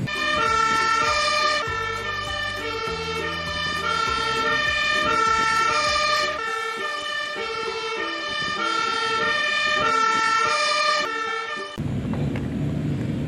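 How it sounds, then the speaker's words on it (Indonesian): A fire truck siren wails steadily and loudly, its repeating tones cycling without a break, with a low engine rumble beneath and no talking. "ada mobil pemadam kebakaran"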